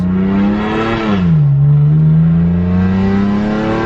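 A BMW F82 M4 with an Armytrix valved exhaust revs loud and close, its deep engine note rising, dipping, then holding a steady drone with no talk over it.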